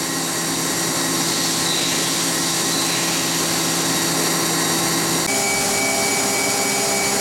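A Mazak MH 580 CNC horizontal machining center spindle running at 10,000 RPM gives a loud, steady high whine with a constant airy roar, shifting pitch slightly near the end.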